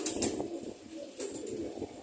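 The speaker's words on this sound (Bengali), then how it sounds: "খুবই ভালো একটা কবুতর, অনেক ভালো কবুতর, এবং ফ্লাইও করে খুব ভালো" Pet pigeons in a home loft coo softly, with a few low, rounded calls repeating close by over quiet background noise.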